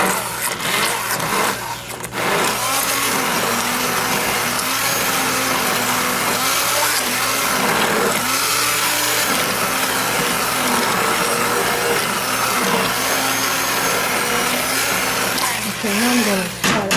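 Immersion blender whirring through a pot of green tomato salsa, a steady loud motor drone held for most of the stretch with brief dips in pitch as it churns, a short pause near the start.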